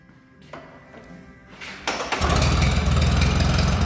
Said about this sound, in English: Now, lift the crank again, watch it run